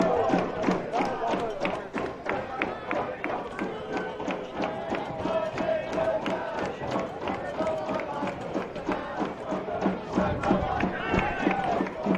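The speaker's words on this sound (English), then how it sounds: "We've got the Bears supporting Bears out here cheering on the men." Home supporters at a men's college soccer match between Lenoir-Rhyne and Lincoln Memorial make steady crowd noise with shouts, mixed with running footsteps and thuds on the pitch throughout.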